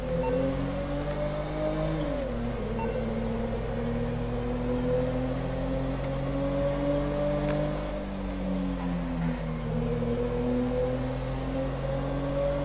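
Toyota Corolla engine in GTA 5 straining and revving steadily as the car struggles to climb an off-road slope, a continuous droning tone that rises and dips slightly, with no talking.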